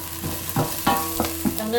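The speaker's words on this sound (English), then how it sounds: "I'm going to add my ginger and garlic" Ginger and garlic stirred and frying in a pan for a garden egg stew, with a steady background sizzle broken by several short scraping stirs, close and moderately loud with no talking.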